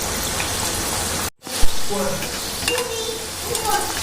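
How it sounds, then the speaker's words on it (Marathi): Wheat flour samosas deep frying in hot oil in a wok, giving a steady broadband sizzle that cuts out briefly, then resumes with softer bubbling and occasional clinks. "आता यामध्ये आपण हे समोसे डीप फ्राय करून घेणार आहोत."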